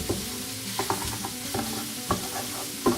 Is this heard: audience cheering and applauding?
no